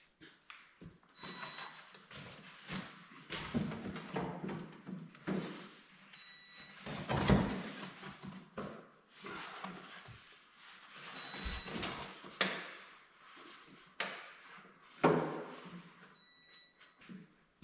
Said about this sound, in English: put the door back together